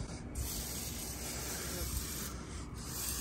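WD-40 is sprayed on a Yamaha Raptor 700R SE ATV, a steady close hissing spray that runs almost without pause and breaks off briefly a few times.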